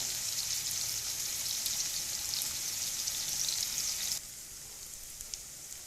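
Tandulja (amaranth) greens fry in a pan with a steady, close hiss of sizzling. The sizzle drops noticeably quieter partway through and carries on softly to the end.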